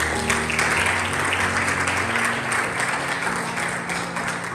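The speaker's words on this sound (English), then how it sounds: "the one which I ask you to welcome with a round of applause" An audience in a lecture hall at the Diplomatic Academy of Vienna applauds to welcome a professor for his jubilee lecture, steady full clapping throughout with a faint underlying musical hum.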